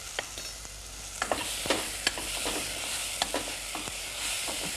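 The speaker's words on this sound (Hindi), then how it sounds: "इन टमाटर को थोड़ा सा पकाना है हमने नमक डालकर ताकि ये थोड़े और सॉफ्ट हो जाएं" Salted tomatoes cooking down in a pan, a steady close sizzle with scattered sharp pops and a few scrapes of stirring, no one talking.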